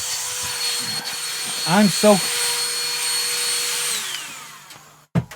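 An Auto XS cordless wet-and-dry vacuum cleaner runs with a steady high whine, someone speaking briefly over it before the motor winds down and stops, followed by a click.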